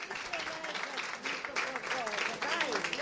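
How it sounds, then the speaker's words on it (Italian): Audience applause fills a gathering honouring a man's 100th birthday, a steady dense patter of many hands with voices calling and cheering over it throughout. "Facciamo un applauso, dai."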